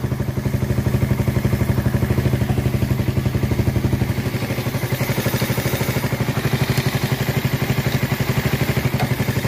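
A motorcycle engine with a leaking exhaust pipe elbow idles with a rapid, even chugging pulse and a clattery, leaky exhaust note, loud and close, running steadily throughout.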